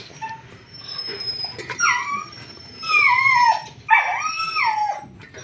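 Several dogs howl and yip at feeding time, with rising and falling whining cries in three or four close, loud bursts.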